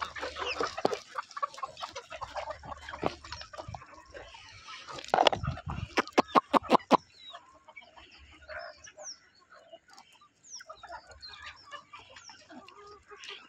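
Free-range country chickens clucking as they feed on a farm in the evening, with scattered bird calls and a short run of sharp, loud bursts midway before quieter clucks and chirps return.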